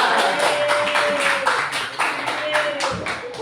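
A classroom group claps in a rhythmic pattern of regular, fairly loud beats, with a voice speaking over the claps.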